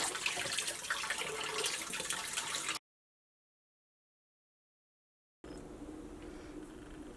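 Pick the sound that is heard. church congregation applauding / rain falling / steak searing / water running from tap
water running from tap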